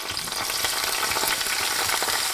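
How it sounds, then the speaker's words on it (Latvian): Green beans sizzling and frying in a generous amount of hot melted butter in a pan, a steady, dense crackle and hiss close up with no talking. "Sviests ir uzkars un tagad likšu pupiņas cepties."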